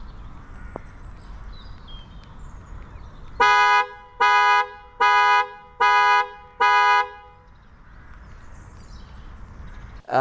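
A Nissan car horn, triggered remotely through the Nissan Connect app, sounds five evenly spaced, loud, nearby honks against quiet outdoor background noise.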